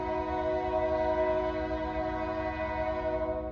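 A nearby passing train sounds its horn in a long, loud, steady chord over the low rumble of the cars, holding without break.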